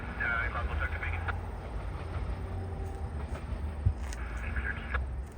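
A CN intermodal freight train rolls past, a steady rumble with rail clatter and wheel squeal running the whole time, heard from nearby at a rail line with a voice talking over it.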